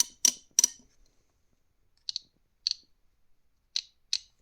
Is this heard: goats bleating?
no